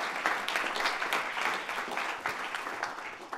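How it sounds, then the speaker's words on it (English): Audience applause after a pitch at a small business competition finale, lively clapping from a modest crowd with distinct individual claps rising and falling over a few seconds. "A big round of applause for Corbin"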